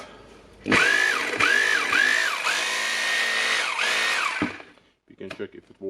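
A Bosch GBH 2600 hammer drill runs loud and close after repair, motor whining steadily for about four seconds with brief speed dips, then stops; a few clicks and handling noises follow.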